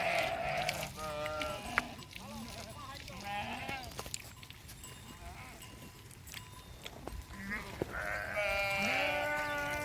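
Village livestock herd moving nearby, with repeated sheep and goat bleats, some overlapping, rising and falling over steady outdoor background noise, with people talking in between.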